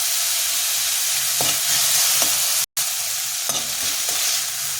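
Loud sizzle of onion, tomato, curry leaves and chilli tempering frying in a pan with a spoon scraping and stirring a few times, close up, with a brief dropout midway; no talking.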